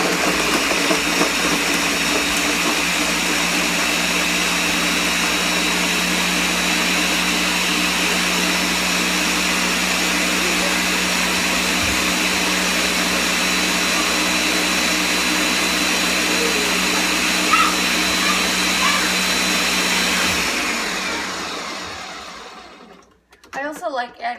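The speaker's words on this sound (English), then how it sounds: "So then I'm gonna put it in my blender." A blender runs steadily, whirring a vegan chocolate Shakeology shake with strawberry, a loud continuous motor hum lasting about twenty seconds before winding down and stopping.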